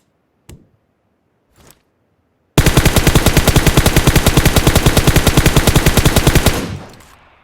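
M416 assault rifle in PUBG Mobile, two single shots followed by a sustained, rapid full-auto burst of about four seconds, loud and close, ending in a decaying echo tail.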